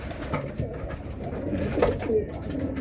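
Racing pigeons coo softly and repeatedly amid a steady, noisy background hum, with a few fluttering sounds, at a pigeon race awarding night.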